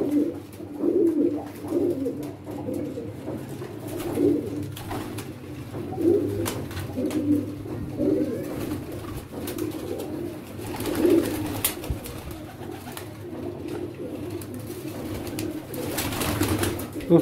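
Pigeons coo repeatedly in soft, low rolling phrases at close range under a steady background hum, the calls overlapping in an uneven rhythm with no talking.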